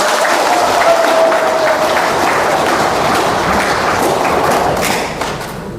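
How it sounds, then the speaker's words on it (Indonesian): An audience at a speech event in Potowaiburu claps in sustained, dense applause, loud and close, holding steady for about five seconds before tapering off, with a brief whistle early on. "Tepuk tangan dulu."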